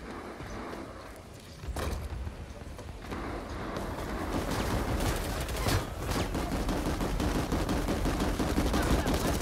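Dense enemy gunfire in Planetside 2, a sci-fi shooter game, rattling in rapid continuous bursts that build from about two seconds on and stay loud and busy to the end, with sharp louder cracks standing out.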